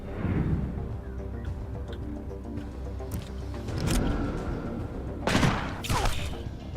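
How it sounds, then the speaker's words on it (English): Shotgun fire in the turn-based video game Mutant: Year Zero, a few heavy blasts booming out amid rumbling in-game combat noise, the loudest burst coming late and followed by a second crack. "You're using a shotgun at long range, pal"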